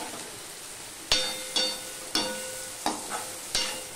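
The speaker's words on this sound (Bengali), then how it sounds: "এবারে যে কেটে রাখা ঝিঙেগুলো আমি দিয়ে দিচ্ছি।" Chopped ridge gourd with salt and turmeric fries in a pan while a utensil stirs it, producing five or six sharp metallic scrapes and knocks spaced over a low steady sizzle, close up and without speech.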